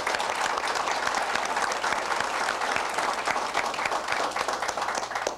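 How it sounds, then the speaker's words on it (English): A political workshop audience applauds steadily, with dense, continuous clapping from a sizable crowd filling the room at an even level throughout. "all of us ought to give them a round of applause"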